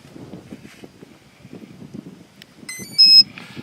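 An RC transmitter powers on with a short series of high electronic beeps near the end, following soft rustling, outdoors in strong wind.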